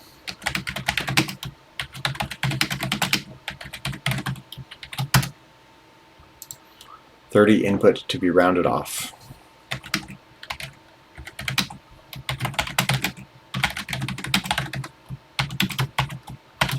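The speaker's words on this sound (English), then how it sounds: "I'm typing it exactly as written in the book" Bursts of rapid keyboard typing on a Texas Instruments TI-99 computer, clacking in quick runs with short pauses, close by; a person speaks briefly in the middle.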